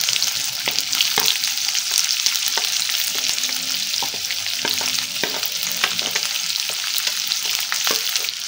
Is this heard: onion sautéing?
yes